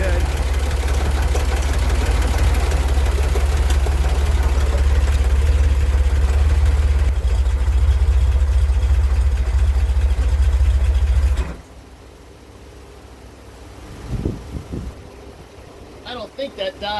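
A Chevrolet Corvair engine idles with a loud, steady low rumble for about eleven seconds, then cuts off abruptly, leaving quiet shop sounds and a few faint knocks.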